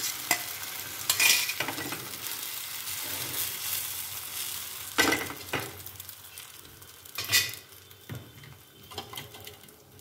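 Omelette frying in a lightly oiled pan, a steady close sizzle with occasional louder stirring or scraping bursts, and no voices.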